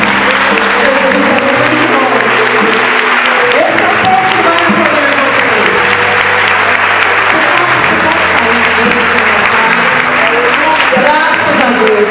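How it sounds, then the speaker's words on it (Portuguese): A congregation at an Assembly of God missions congress in a church applauds, continuous loud clapping over sustained music and singing that runs throughout. "Nós vamos aplaudir Jesus"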